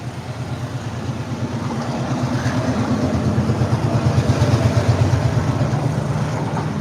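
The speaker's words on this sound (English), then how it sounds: "That's not a proper train. That's just the engine." A lone locomotive engine rumbles past in Colombo traffic, a low throbbing diesel drone that grows louder and pulses rhythmically as it comes nearer.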